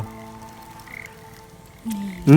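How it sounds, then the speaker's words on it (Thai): A frog just dug out of its hibernation burrow croaks, with a low, rising croak near the end over a quiet outdoor background with faint tonal hum. "นี่กบ นี่พี่น้อง"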